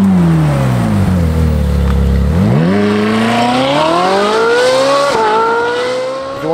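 A Ferrari 458 Speciale fitted with a Novitec exhaust revs up loud and close, its engine climbing in sharp surges and dropping back between throttle blips with no talk over it.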